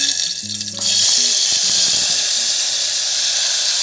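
Cumin seeds and kachri sizzle and hiss loudly in hot oil in a pan, a steady close frying noise that swells suddenly partway through and holds, with faint clinks of utensils early on.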